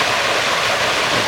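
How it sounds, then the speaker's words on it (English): A small waterfall at the Los Angeles Arboretum, a steady close rush of splashing water, broadband and unbroken, filling the short moment alone without voices. "we have a little waterfall."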